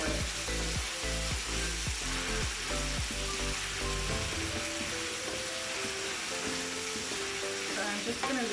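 Lamb curry ingredients frying in about 150 ml of oil, a steady close sizzle with stirring clatter in the first few seconds, then continuous crackling alone.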